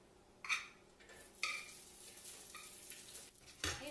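Leftover cooked rice broken up and stir-fried in an oiled pan for lemon fried rice: a quiet, soft sizzle punctuated by several short scraping strokes of a spatula, with no voices.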